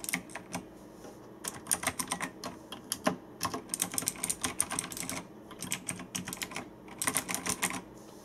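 Fast, steady typing on a Razer BlackWidow Ultimate Chroma mechanical keyboard with green switches, crisp clicky keystrokes close up in quick uneven bursts and no talking.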